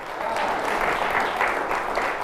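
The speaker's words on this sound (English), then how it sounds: "Give him a big round of applause." Audience applause at a live stage performance greets a volunteer called up from the crowd, a dense, steady wash of clapping that stays loud and even throughout.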